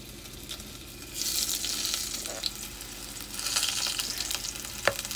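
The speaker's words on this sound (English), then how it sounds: "I'm just gonna pull the meat out and put this in the pan. Ooh, hot." Beef sizzling as it sears in a hot pan, a hissing crackle that swells in two waves with a few sharp pops and clinks, close and moderately loud, no talking.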